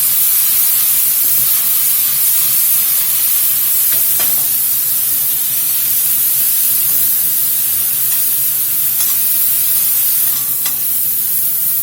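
Beef sears in a hot skillet over a strong fire, a loud continuous sizzle and hiss with occasional faint clinks and scrapes as the pieces are tossed.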